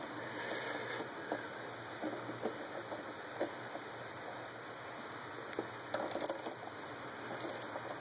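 Ratchet snugging a bolt in the engine bay of a 2001 Ford F150 during a spark plug and coil tune-up, heard as faint, scattered metallic clicks over quiet background noise.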